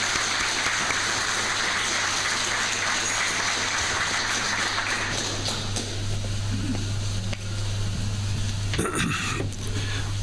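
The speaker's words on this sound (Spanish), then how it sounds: "Les pido por favor un fuerte aplauso para él para recibirlo." A seminar audience claps steadily and loudly for about ten seconds to welcome a speaker, with a constant low hum underneath and the clapping thinning slightly near the end.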